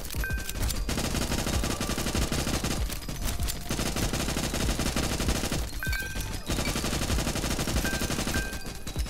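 Automatic gunfire in Guncraft Survivor, dense rapid shots rattling on almost without a break, loud and close, with a few short gaps between long bursts.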